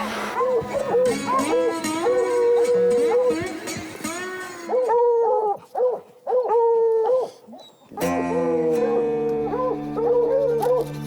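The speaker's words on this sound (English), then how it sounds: "That's the dogs giving voice." Hunting dogs bay and howl at a cougar treed on a Rocky Mountain hillside, several voices overlapping in long wavering cries that break off briefly near the middle, with a person talking faintly among them.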